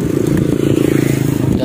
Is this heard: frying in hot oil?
no